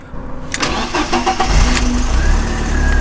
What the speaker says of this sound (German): Wir werden jetzt einfach mal das Auto starten